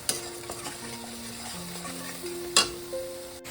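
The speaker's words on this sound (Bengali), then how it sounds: "একটু জল দিয়ে ভালো করে আমি মশলাটাকে কষিয়ে নেব" Spice paste for a mustard-poppy seed tilapia curry frying in oil while being stirred, a steady low sizzle with a couple of sharp spoon scrapes against the pan, close up and without talk.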